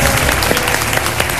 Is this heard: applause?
yes